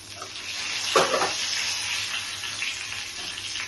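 Whole spices (cumin, cardamom, cinnamon and bay leaf) fry in hot oil for an egg curry, giving a continuous close sizzle with a brief stirring scrape near the one-second mark.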